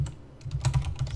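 Rapid keystrokes on a computer keyboard, close and fairly loud, in an uneven run of clicks lasting about a second with no talking.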